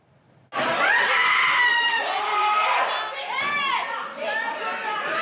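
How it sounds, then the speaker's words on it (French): Loud, overlapping screams and shouting from a crowd erupt suddenly during a brawl on the terrace of the Hôtel Créolia on Réunion, sustained and chaotic with rising and falling wails throughout. "des cris, une bagarre vient d'éclater sur la terrasse de l'hôtel Créolia"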